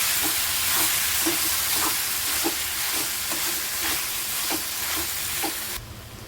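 Pasta being stirred and mixed in a hot pan with pasta masala, a steady sizzling frying hiss with regular scraping stirs roughly every half second, close and continuous, without any talk.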